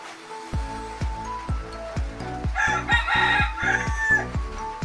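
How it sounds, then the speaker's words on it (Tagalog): A wild chicken (labuyo) gives a run of loud, evenly spaced clucks, then crows, up close. A soft whooshing background lies beneath. "Ang ingay ng manok."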